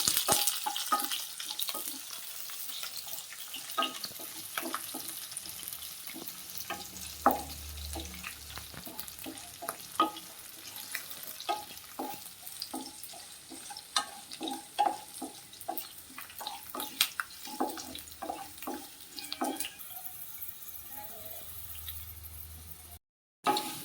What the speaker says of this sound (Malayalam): ഒരു കുഞ്ഞു കഷ്ണം ഇഞ്ചിയാണ്, ഒരു പച്ചമുളകുമാണ് നമ്മൾ എടുത്തിരിക്കുന്നത്. അതിൻ്റെ കൂടെ നമുക്ക് കറിവേപ്പിലയും കൂടി ഇടാം. ഇതെല്ലാം ഒന്ന് നല്ലതുപോലെ വഴന്ന് വരട്ടെ.